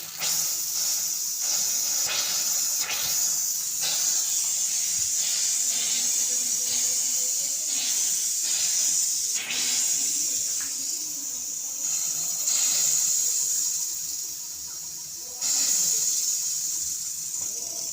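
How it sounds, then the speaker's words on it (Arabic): Air hissing steadily out of a Regal 50-litre electric water heater as it is bled, a loud continuous close-up hiss with sputtering surges throughout. "هذه مرحله لي بيرجور ضروري خص الهواء يخرج"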